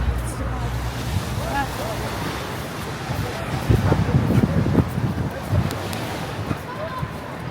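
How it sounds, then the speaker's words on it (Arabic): Sea waves breaking along an Alexandria beach in Egypt, a continuous surf wash with a louder surge midway, buffeted by wind noise on the microphone while a woman chats over it. "يا سلام على الموج"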